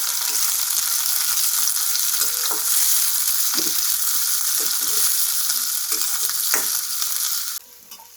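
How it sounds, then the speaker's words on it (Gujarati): Chopped onions sizzle and fry in a pan while a spoon stirs them, with a steady hiss and occasional scraping clinks, close and alone without talk, for a creamy methi malai peas curry. "ડુંગળીને આપણે આમાં એડ કરી દઈશું અને ડુંગળીને આપણે થોડી હલાવી લઈશું."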